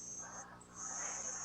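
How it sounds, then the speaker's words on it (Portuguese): Steady high-pitched insect-like buzzing drone, like a cicada, continuous in the background with a short dip midway, faint and without speech. "Thelma falou, parece mesmo um barulho de cigarra"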